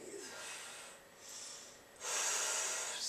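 Strong, forceful breaths rush in and out through the nose during a yoga session, with three long airy pushes, the last one loudest and nearest, and no talking.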